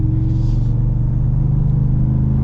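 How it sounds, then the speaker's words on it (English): A 2022 Ford F-150 Black Ops with a 5.0 Coyote V8 rumbles steadily while driving, a smooth, constant low engine drone heard from close by. "Love that V8 sound."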